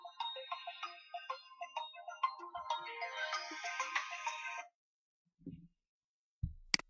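A mobile phone ringtone plays as a series of bright melodic electronic tones for several seconds, moderately loud and close, then stops, followed by a few faint knocks and a soft voice.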